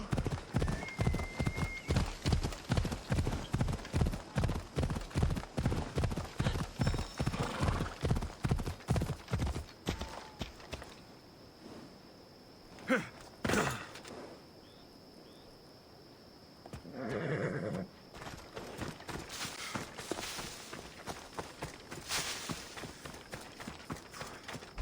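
A horse in Assassin's Creed Odyssey gallops in a fast, steady clip-clop rhythm for about ten seconds, then slows, with a few neighs and snorts breaking through before the hoofbeats resume.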